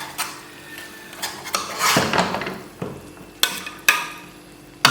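Chicken karahi is scooped out of the cooking pan with a metal utensil, giving a series of scraping clinks and clatters with a faint leftover sizzle, close and moderately loud, with no one talking.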